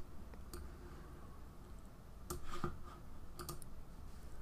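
A few quiet computer mouse clicks while pressing the OK button in Photoshop Elements, faint and close over a low background hum, with several separate clicks spread across the stretch.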